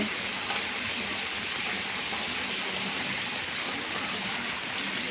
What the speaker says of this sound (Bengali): দেখো কত জল মানে যাচ্ছে এই দিক দিয়ে মানে কী হারে বৃষ্টিটা আরম্ভ হয়েছে